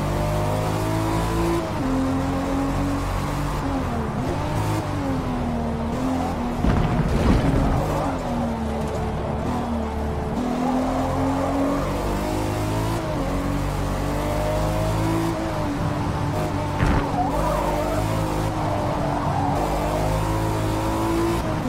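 Race car engine in Forza Motorsport roaring continuously at high revs, pitch rising and falling through gear shifts and corners, with brief tire skids, loud and close throughout a sprint to the finish line.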